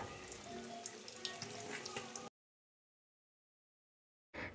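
Battered pumpkin fritters frying in hot oil give off a steady bubbling sizzle at close range for about two seconds. Silence follows, then a brief loud knock.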